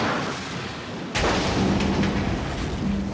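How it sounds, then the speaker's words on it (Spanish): A storage tank at an oil refinery explodes, heard as a sudden heavy boom that cuts in and then rolls on as a deep, sustained rumble, loud and alone. "y acaba explotando"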